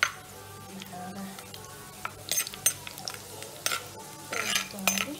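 Two sprigs of curry leaves fry in hot oil in a pan for a fish curry, crackling under irregular spoon scrapes and light metal clinks, with a burst of louder sizzling toward the end.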